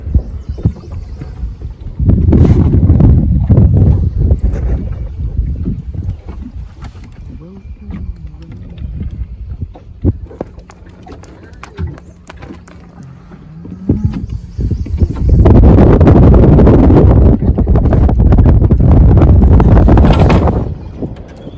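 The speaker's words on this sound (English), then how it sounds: "It's a good gust." Strong gusts of wind roar across the microphone in two long bursts aboard a small wooden sailing cruiser on the Roanoke River, with quieter rumbling and faint voices in between.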